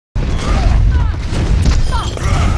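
Enemy turret blowing up as it is destroyed in the shooter game Overwatch: a loud booming blast with rumbling low end and crackling debris, followed by ongoing combat noise and a voice over the din.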